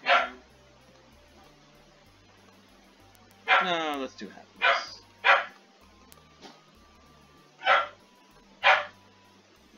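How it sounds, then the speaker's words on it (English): A dog barks in short sharp bursts at cats somewhere in the background, several separate barks spaced across the stretch at moderate distance, with a voice speaking briefly among them. "Dog's freaking out at the cats in the background."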